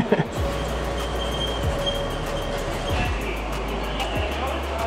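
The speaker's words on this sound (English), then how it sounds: "The train that's gonna take us to get our baggage is called the People Mover." An airport people mover train rolls steadily along the track with a constant low rumble and periodic wheel clacks, heard from inside the car.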